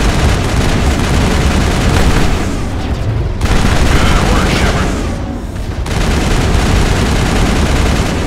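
A grenade explosion amid continuous heavy gunfire in a Mass Effect combat sequence, loud booms and rattling shots layered densely with short dips in intensity.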